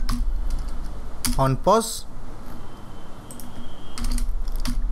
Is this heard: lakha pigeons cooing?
no